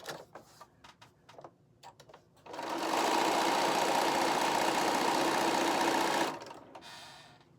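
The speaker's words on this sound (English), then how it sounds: "we're going to sew on the diagonal right on that line that we drew" A sewing machine runs steadily for about three seconds, stitching a charm-pack quilt block diagonally along a drawn line, preceded and followed by a few light clicks and handling sounds, close and alone.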